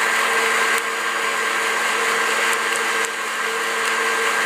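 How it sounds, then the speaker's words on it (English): Coffee beans reach first crack while roasting in a popcorn popper, a steady loud whooshing hot-air roar broken by a few scattered sharp cracks. "So this is first crack."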